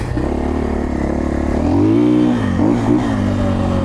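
A 2024 KTM 450XCF-W four-stroke dirt bike engine revs hard out of corners, its pitch climbing and dipping with throttle blips, loud and close throughout.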